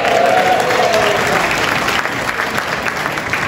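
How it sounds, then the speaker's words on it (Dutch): Audience at a Dutch-Limburg carnival evening by a local association claps loudly and steadily, a dense crowd applause that starts strong and slowly thins out, with faint voices underneath. "Geef een groot applaus"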